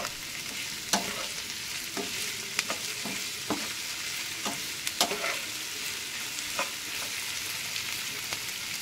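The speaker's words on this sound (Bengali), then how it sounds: "আর প্রথমে সবজিগুলো ভেজে নিয়েছিলাম, তারপরে দিয়েছিলাম সয়াবিনটা" Vegetables and soybean chunks stir-fried for chow mein in a pan, a loud continuous sizzle broken by frequent spatula scrapes and taps against the pan.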